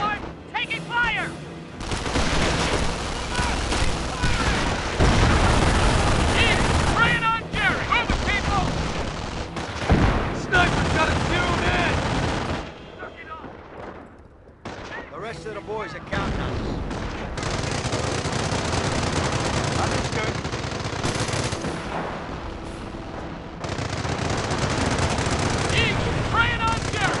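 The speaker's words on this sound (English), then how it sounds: "They're coming for us, airborne. Taking fire." Heavy gunfire from a World War II battle in the game Company of Heroes, with dense machine-gun bursts and rifle shots rattling almost without pause, briefly dropping off midway before resuming, under shouted voices.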